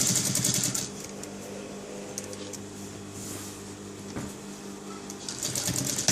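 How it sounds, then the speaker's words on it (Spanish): A sewing machine stitches a hem on a fitted bedsheet while elastic is fed into it, running in short bursts of rapid whirring with quieter pauses between, close and moderately loud. "de una vez cosemos el dobladillo y metemos la goma"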